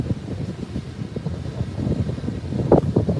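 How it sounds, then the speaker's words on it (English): Strong wind at an Australian beach buffeting the microphone with low rumbling gusts that build toward the end, heard alone. "Look how windy it is."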